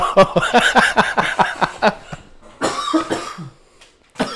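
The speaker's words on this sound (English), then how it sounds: "Coughing my lungs out" A rapid fit of harsh, close coughing, a dozen bursts in quick succession, followed by a few rough throaty coughs and wheezy breaths.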